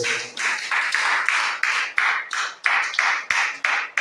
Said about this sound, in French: Est-ce que vous pouvez applaudir le Seigneur?